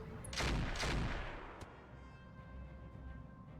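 Weapon fire in the mech combat game RogueTech: two heavy booming shots in quick succession, then a long rumbling decay and a sharp click, close and loud with no talk over it.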